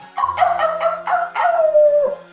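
A man imitates a dog howling with his voice, a loud series of wavering, pulsing howls that ends in a long falling note, close and alone.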